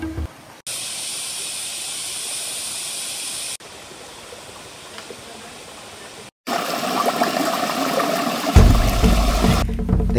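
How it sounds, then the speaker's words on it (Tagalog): A mountain river on Mt. Guiting-Guiting in the Philippines, heard as a steady rushing hiss of flowing water that shifts in loudness between segments and swells to a fuller, louder roar near the end. "Itong ilog na rin na ito ang tanging source ng tubig"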